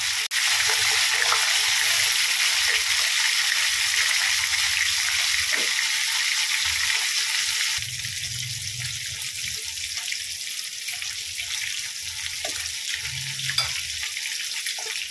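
Pieces of katla fish fry in hot oil with a continuous crackling sizzle, louder at first and then settling lower, broken by a few light clinks and stirring sounds.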